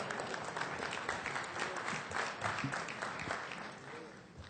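Applause from the audience at a 2007 Freedom From Religion Foundation convention talk, a steady wash of clapping heard from a distance and fading slightly toward the end.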